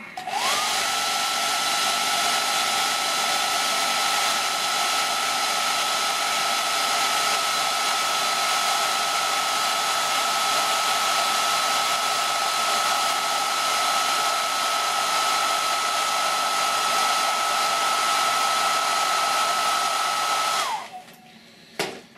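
A hair dryer blows steadily on wet face paint for about twenty seconds, a loud, even whir with a constant tone that cuts off near the end.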